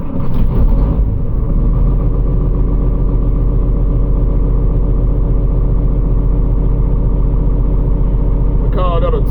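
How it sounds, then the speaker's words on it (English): A lease-operated semi truck's engine, being started after charging its batteries, settles into a steady, loud diesel idle that fills the whole stretch, with a brief change at the start. "I need to start this truck up, charge the batteries, see if it'll start up."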